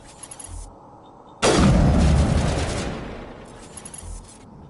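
A single loud sniper-rifle blast in the Mass Effect video game erupts abruptly after quiet ambience, then decays over about a second and a half, with faint game sounds before and after.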